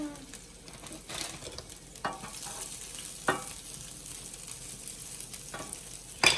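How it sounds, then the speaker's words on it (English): Broccoli fried in hot oil in a pan, crackling and hissing close by with scattered clinks and stirring scrapes, no talking. "We're going to throw the broccoli into the oil so it gets a little crispy hot first."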